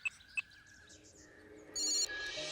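A telephone rings while a call is being placed, two short beeps followed by a loud electronic ringtone burst.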